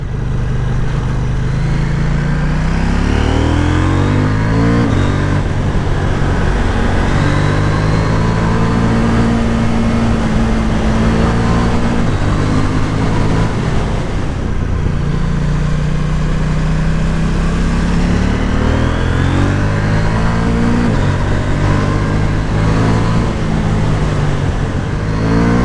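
A 2023 KTM 790 Duke parallel-twin motorcycle engine being ridden, loud and close, rising and falling through repeated revving accelerations and gear changes, with steady wind rush underneath.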